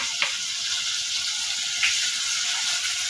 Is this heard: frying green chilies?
yes